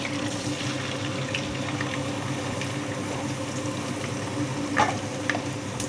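Onions frying in oil with cumin, curry leaves and mustard seeds for an egg curry, a faint continuous sizzle with soft crackles and an occasional pop, no voices.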